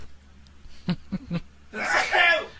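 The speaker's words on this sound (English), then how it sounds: "I'm going to sneeze right now" A few soft clicks and breaths are followed by a sudden, loud burst of a sneeze close to the listener.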